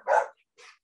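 A dog gives two quick barks close by, the first loud and the second softer, with no talking.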